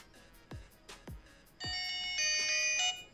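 A W35 Pro Apple Watch clone smartwatch plays its first ringtone: three soft taps, then a steady, bright, bell-like electronic chime that sounds close and clear and lasts about a second and a half.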